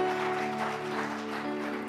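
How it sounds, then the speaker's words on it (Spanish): A church congregation applauds in a steady wash of clapping, a dense even patter heard over sustained organ-like musical tones that continue underneath for the whole stretch. "A big round of applause to the Lord"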